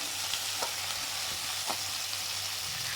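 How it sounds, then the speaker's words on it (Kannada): Ingredients sautéing in a pan for country chicken sambar, a dense, even sizzle throughout with a couple of soft stirring scrapes, close and steady with no talk. "ಇದೆಲ್ಲ ಸ್ವಲ್ಪ ಬಾಡಿಸ್ಕೋಬೇಕು"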